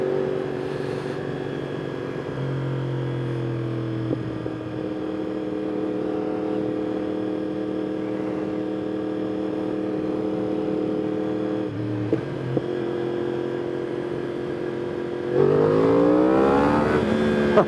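A 2021 Yamaha R1 motorcycle with a Woolich tune runs in first gear. Its engine hums close and steady for most of the stretch, then the revs climb sharply near the end.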